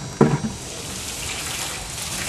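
Water sprays and splashes while an air conditioner condenser is cleaned, a steady hissing wash with a brief louder splash near the start.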